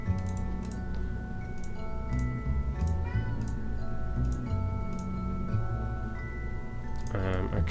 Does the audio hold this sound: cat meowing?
yes